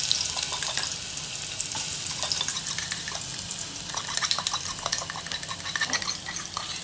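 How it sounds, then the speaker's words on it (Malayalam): Crushed ginger and garlic hit hot oil with fenugreek for a crab curry, producing a continuous bright sizzle with scattered crackles and pops, steady and fairly close, with no talking. "നമ്മൾ ഇഞ്ചി പേസ്റ്റ്, ഇഞ്ചും വെളുത്തുള്ളിയും ചതക്കി അതിലേക്ക് ഇടുകയാണ്."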